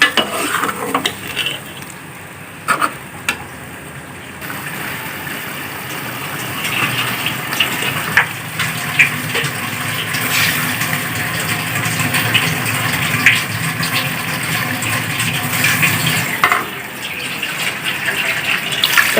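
Water poured into a pan of frying meat for a tinda gosht curry, giving a steady, close hissing rush that starts a few seconds in and carries on with little pause, alone after a few faint knocks.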